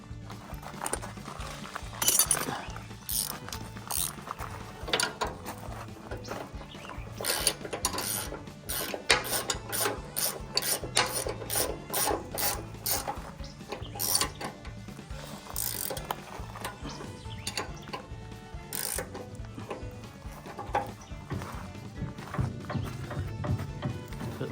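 A wrench tightens a bolt on an abandoned mortar mixer being revived, producing a long run of quick, close ratcheting clicks in uneven bursts, fairly faint, with mechanical rattles between them.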